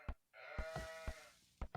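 Sheep bleat in Age of Empires 2, with one drawn-out, wavering bleat set between short sharp clicks and taps, heard alone and fairly faint.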